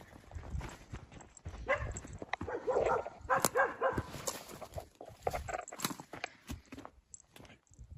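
A dog barks and yips in short irregular bursts, moderately close, with pauses between barks and some scuffling sounds.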